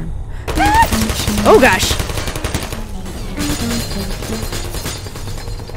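Turrets fire in the video game Portal 2 in rapid, crackling bursts mixed with the turrets' synthetic chirps, while a player briefly exclaims over the gunfire.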